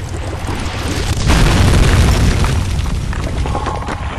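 A loud, deep boom from an explosion in Amnesia: The Dark Descent, a rumbling blast that swells after a moment and slowly decays with no speech over it.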